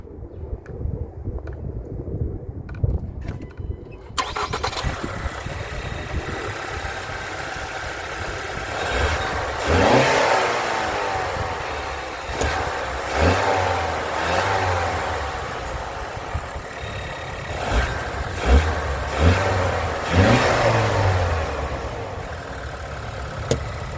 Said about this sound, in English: let's see if I can give you a little turbo whine real quick